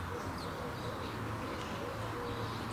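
Soft low cooing of pigeons or doves by an artificial lake in Tirana, repeated and somewhat distant over steady outdoor background noise, with faint chirps and no talk.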